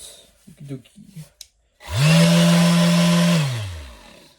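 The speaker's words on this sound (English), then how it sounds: "And this guy still works, it's still doing its job, and it can still sand stuff" A Craftsman 20V cordless power sander whirs up loudly, holds a steady high-pitched buzzing drone for over a second, then winds down, after some faint knocks and handling.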